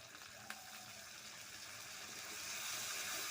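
A little water is poured over a cooking spice mixture while making rui fish curry with potatoes, giving a soft, steady wash of liquid that grows slightly louder toward the end. It stays faint and close, with no talking.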